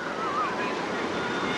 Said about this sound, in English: It's the ocean.